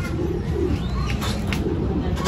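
African lovebirds chirping and calling in an aviary, a steady layer of bird calls with a few brief higher notes standing out over constant background hum.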